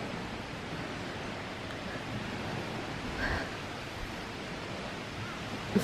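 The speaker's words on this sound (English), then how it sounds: "The waves are gentle." Gentle ocean waves wash steadily on a quiet, sunny shore, a soft continuous broadband hiss with slight swells and no voices.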